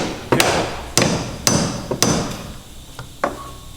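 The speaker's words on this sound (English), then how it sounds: "Let me see that larger hammer." Hammer blows during a restoration job, six sharp metallic strikes spaced about half a second apart, loud and close, with the last two lighter and followed by a faint ringing tone.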